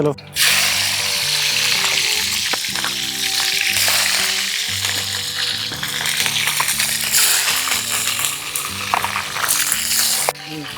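Whole spices for tempering crackle in hot oil in a kadai for a Telangana-style fish curry, a steady bright sizzle running the whole time under loud music with rhythmic melodic lines.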